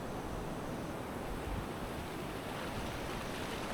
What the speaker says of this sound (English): each mighty wave rolls and splashes